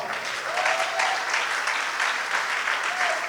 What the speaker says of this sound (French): Ça mérite une acclamation, non?